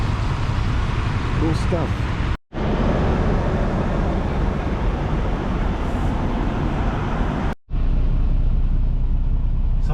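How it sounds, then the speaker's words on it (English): A steady, low rumble of idling trucks fills an open-air truck station in Seattle, where about 40 trucks are parked. Someone talks over the constant drone. "There's about 40 trucks here."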